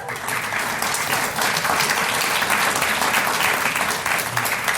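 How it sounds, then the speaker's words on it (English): A standing audience at a university trustees dinner claps loudly and continuously for honored faculty, a thick, unbroken applause that fills the room. "We're going to clap for you some more."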